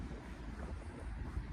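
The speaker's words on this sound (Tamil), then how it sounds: "காற்றடிக்குது பாருங்க" Steady wind buffeting the microphone on a coastal road along the Ring of Kerry, a continuous low rumbling roar with gusts and no talk.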